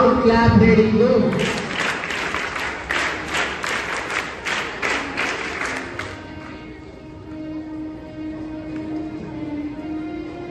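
A school group at an investiture ceremony at KV 3, ONGC Surat performs a scout clap: about ten sharp, evenly spaced claps in steady rhythm, loud and close, with a voice speaking before and after.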